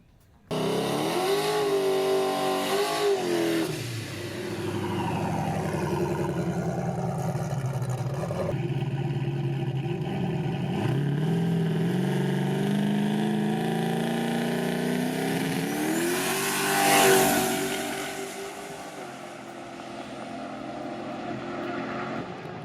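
A turbocharged Chevrolet Silverado truck with a D-stroked LSX 454 V8 makes about 1600 horsepower at the wheels. Its engine drones loudly and steadily, rising and falling through several revs, with one sharp surge near the end before it settles back.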